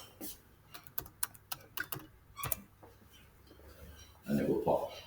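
Light tapping on a computer keyboard, a quick irregular run of soft clicks close by, followed by a brief louder rustle.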